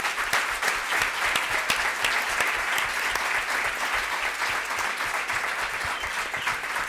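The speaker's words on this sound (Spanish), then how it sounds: "Así que un aplauso para Diana." Audience applause at a book presentation on feminist contributions to the justice system, a dense, steady roomful of clapping sustained at even volume from start to finish.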